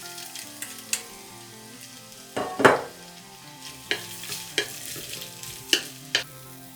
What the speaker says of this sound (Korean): 여기 맞는 양념장은 2큰술 넣어서 볶아줄게요